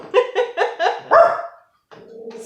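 A dog gives a quick run of four or five close, loud barks in a row, then a short gap before a softer, drawn-out whine-like sound.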